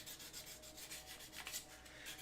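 Hand sanding on a curved wooden piece gives a quiet, soft, repeated rubbing rasp in steady back-and-forth strokes, close by with no talking.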